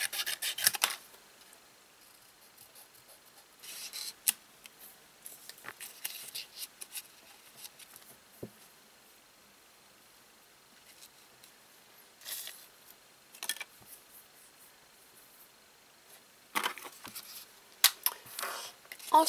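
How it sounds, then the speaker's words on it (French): Scissors cut paper feather shapes for a handmade card, with bursts of crisp snipping and rustling paper in several spaced clusters and quiet gaps between them. "Donc voilà mes petites plumes que je vais découper."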